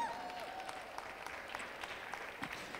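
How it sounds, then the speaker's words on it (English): Steady applause from an audience at an evening Diwali celebration event in the Chicago area, a continuous patter of many hands clapping at moderate distance with a faint voice or two in the room. "give yourselves a round of applause for being here tonight"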